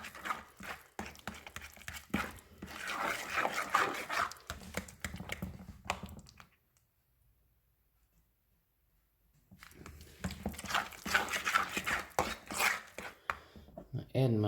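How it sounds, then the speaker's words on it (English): Butter being mixed into mashed bananas in a bowl for banana bread, with busy, repeated utensil knocks and scrapes that stop for a few seconds of near silence, then resume just as steadily. "I'm just going to mix that butter in with those bananas good."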